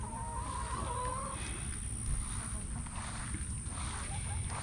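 Chickens standing in rain-flooded water cluck and chatter softly against a steady background hiss, with a faint voice now and then.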